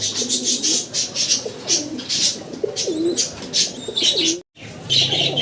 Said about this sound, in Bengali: দেখেন খুব অ্যাক্টিভ কবুতরগুলো